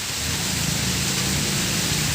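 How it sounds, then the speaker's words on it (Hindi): A heavy downpour falls hard and without letup, a thick, even roar of rain close by, with wind in cool weather and no one speaking over it. "देखो बारिश खूब ज़ोर से आ गई है बिल्कुल।"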